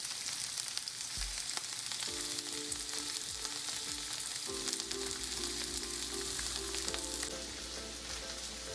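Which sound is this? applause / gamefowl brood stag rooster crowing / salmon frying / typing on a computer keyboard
salmon frying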